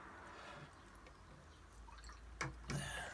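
A watercolour brush rinsed in water, giving faint soft drips and a couple of small splashy swishes near the end in a quiet room.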